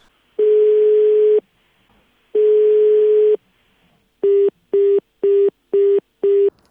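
Telephone call tones on an unanswered call: two long, steady ringing tones separated by a pause, then five short, rapid busy-signal beeps, clear and close with no voices.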